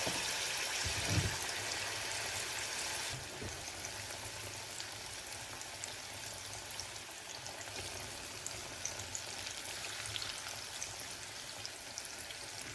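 Unnakaya, the Malabar plantain snack, fries in hot oil with a continuous hissing crackle that is a little louder for the first few seconds, then settles into an even sizzle.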